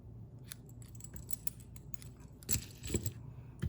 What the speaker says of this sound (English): We'll trim the ribbon.